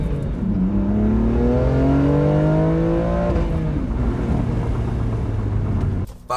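A BMW M2 launches from a standstill and accelerates hard, its loud, close engine note climbing steadily in pitch through the gears before cutting off sharply near the end.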